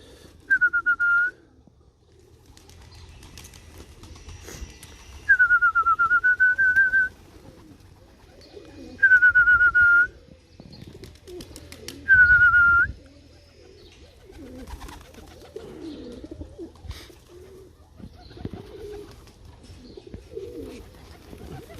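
Pigeons coo softly and steadily while feeding on scattered corn and millet, and four clear whistled notes ring out above the flock at intervals.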